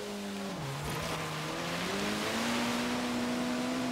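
Opponent race car engine in the Forza Horizon 3 video game, a faint, steady engine drone that shifts pitch upward as it accelerates, heard behind a wash of other race noise.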